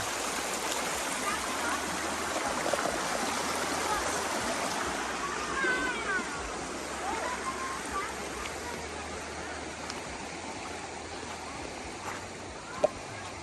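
Flowing river water falls at a campsite in Canada, a continuous rushing wash heard close and steady for the whole stretch, with voices faintly audible underneath.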